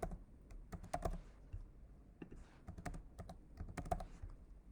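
Someone types on a computer keyboard, entering a password: quick clusters of close, crisp key clicks with short pauses between bursts.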